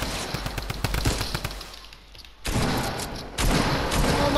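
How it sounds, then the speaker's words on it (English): Gunfire in the video game Fortnite on a beach assault map: dense rapid bursts of shots, a brief lull, then loud sustained automatic fire resuming, with no talk over it. "Stop shooting!"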